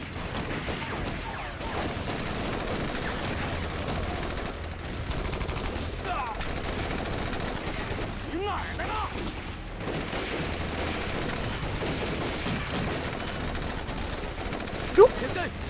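Gunfire in a war action film, dense bursts of shots and rapid firing blended with battle noise and shouting voices throughout, with one sharper report near the end.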